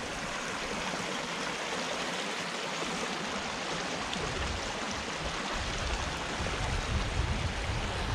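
A small woodland stream runs high and full, its water rushing in a constant, loud, even flow with no voices over it.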